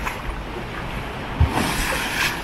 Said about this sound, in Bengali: প্রচন্ড ঢেউ, সে ঢেউয়ের কোনো তুলনা নেই।